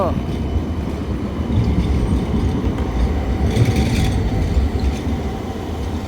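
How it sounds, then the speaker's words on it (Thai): Tram rolling along a street in Oslo, a steady rail rumble with faint wheel clatter against constant background traffic noise, continuous and moderately loud throughout. "นี่ค่ะรถรางจะมาทุกสามนาทีค่ะ"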